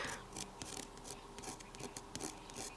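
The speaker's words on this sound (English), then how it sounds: "Hope you can hear it with my nail." A fingernail scraping across letterpress-embossed paper makes a series of quick, faint, close scratchy strokes in an uneven rhythm, with no one talking.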